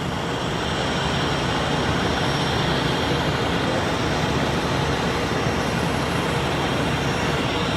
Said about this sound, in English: There's one helicopter that just took off